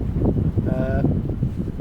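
Gusty wind blowing across water roars and rumbles steadily against the microphone outdoors while paddling, with a brief faint tonal whine in the middle.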